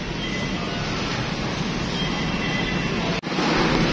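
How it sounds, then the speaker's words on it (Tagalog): An MRT train at a station, a loud continuous roar of wheels and motors filling the platform with a momentary break near the end before the rumble resumes. "Ayan, sa wakas sasakay din tayo ng MRT."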